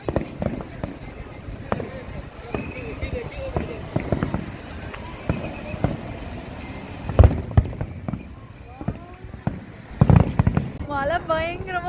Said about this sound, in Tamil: எங்கள் பாருங்க பின்னாடி பட்டாசு வெடிச்சிட்ருக்கு